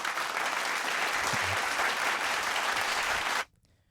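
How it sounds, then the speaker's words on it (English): Audience applause for a basketball player at a school event, a dense steady burst of clapping that fills most of the moment and then cuts off abruptly. "Give him some applause for you."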